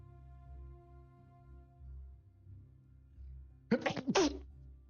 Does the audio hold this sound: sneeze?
yes